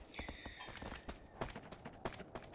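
Horse hooves clip-clop in a quick rhythmic gallop with a brief neigh in Shadow of the Colossus, the game sounds fairly loud and close, with a voice talking occasionally over them.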